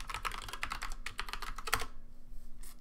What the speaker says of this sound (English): So here I would type in S for no again, and then my password.